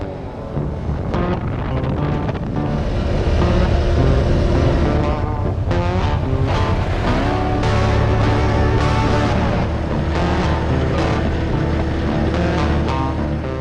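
ATVs ride along the Baraga Plains trails in Michigan, their engines droning loud and close with shifting revs, while wind buffets the microphone throughout.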